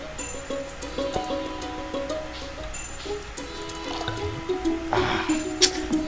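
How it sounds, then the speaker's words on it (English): Water pours into a bucket in Stardew Valley, a soft dripping, filling trickle that runs under steady game music and chiming tones, swelling briefly near the end. "Can I fill up my bucket?"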